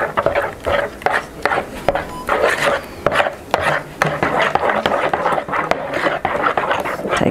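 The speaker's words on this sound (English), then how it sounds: "we're going to have to stir it a good bit to make it get a little thick" Spoon scraping and stirring lemon pie filling made with lemon juice in a pot, a steady rhythmic rasp of repeated strokes, close and fairly loud.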